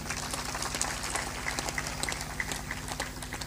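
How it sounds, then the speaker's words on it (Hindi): Steady audience applause at a Hindi spiritual discourse, a dense continuous patter of many hands that holds evenly throughout, with a low rhythmic thumping underneath. "बहुत अच्छे लोग हैं, ताली बजाकर अभिनंदन करो।"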